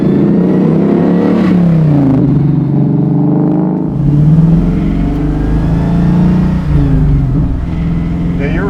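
A Coyote-swapped, flared 1967 Mustang Fastback engine drones and revs steadily while driving, its deep exhaust note rising and falling continuously, close and loud throughout.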